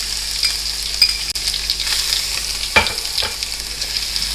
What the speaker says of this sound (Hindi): अब हम इसमें डालेंगे फाइन चॉप की हुई प्याज